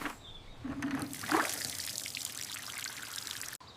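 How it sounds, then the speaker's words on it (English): Water is poured from a small container onto the soil around a newly planted tree, a soft, close trickle and splash that swells briefly and then settles into a quiet dribble, with no talk. "Water again, not too much."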